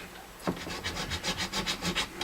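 Guitar frets being sanded with 150 grit sandpaper make close, quiet, rhythmic scratching strokes, about a dozen back-and-forth rubs in quick succession.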